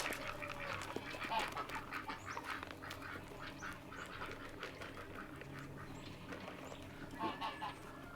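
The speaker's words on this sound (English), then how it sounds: "Come on, ducks." Farm ducks quacking and honking during daily chores outdoors, a busy overlapping chorus of calls at moderate loudness over several seconds, with no talking.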